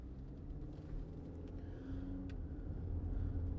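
A 2012 Citroen C3 1.6 VTi Exclusive five-door pulls away on a test drive, its engine giving a low, steady rumble from inside the cabin that swells slightly as it gathers speed.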